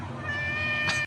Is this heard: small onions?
no